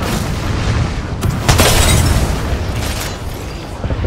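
An airstrike in Apex Legends sets off a loud, booming blast that rumbles on in a dense roar, with a sharper burst of explosions in the middle.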